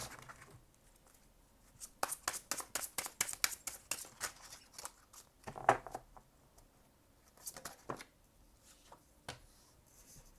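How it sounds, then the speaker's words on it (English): A tarot deck is shuffled up close. Quiet bursts of rapid card flicks and riffles come in two clusters with pauses between them, and no one speaks. "One more shuffle."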